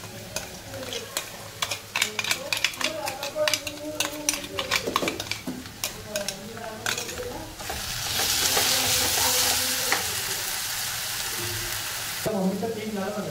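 Ginger, garlic and chili paste frying in a pan for chicken pepper fry, loud sizzling with rapid spoon scrapes and clinks against the pan, then a steady hissing fry swelling near the end.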